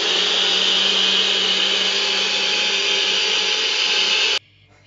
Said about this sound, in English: so I can blend the kiwi nice and easily, and it's much more louder